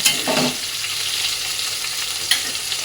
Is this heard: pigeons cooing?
no